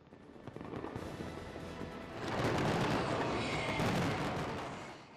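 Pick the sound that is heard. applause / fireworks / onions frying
fireworks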